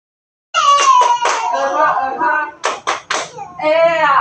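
A classroom of students performs a rhythmic spirit clap, with sharp bursts of clapping in quick groups and voices chanting along, loud and close after a brief silence.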